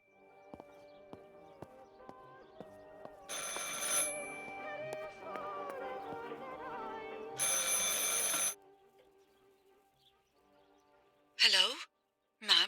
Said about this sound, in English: I should pick up the phone but remain silent.